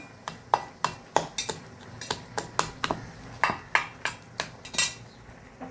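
Peeled roasted brinjal is mashed fine in a utensil, giving a steady run of about twenty sharp, close taps and clacks over several seconds, with no talking.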